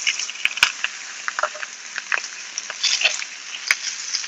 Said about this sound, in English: get our ribs right here, and yeah, get a nice little simmer right in that butter